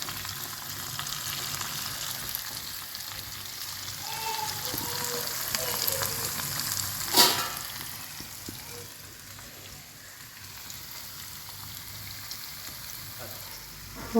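Unniyappam batter frying in hot oil in the wells of an appam pan, a steady close sizzle with a soft bubbling crackle throughout and one brief sharper spit partway through.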